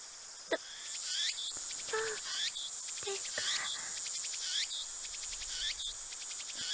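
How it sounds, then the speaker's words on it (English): Cicadas chirp continuously in a dense, shrill drone, with repeated rising trills pulsing over a steady high buzz and no talking, at Yanabayashi Shrine in the visual novel Steins;Gate. "The only sound is the chirping of cicadas."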